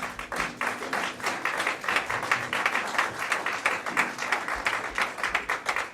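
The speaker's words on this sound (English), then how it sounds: "So please give yourself a round of applause" A small crowd at a sports club presentation night gives a round of applause. The individual claps are distinct and moderately quiet, with a choppy, uneven rhythm and no talking over them.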